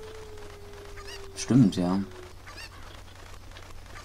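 A chicken in the video game Zelda: Ocarina of Time lets out a short, loud, honking cluck over a quiet game hum, as a voice speaks briefly nearby.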